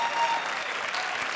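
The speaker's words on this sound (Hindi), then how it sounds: "जोरदार तालियां" A studio audience at a Hindi comedy show claps loudly and steadily, dense applause filling the whole short moment without pause.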